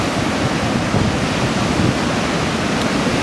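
Ocean surf about 1.2 to 1.3 metres high breaks on the beach at Anglet with a south wind, as a dense, continuous wash of close, loud wave roar with no speech.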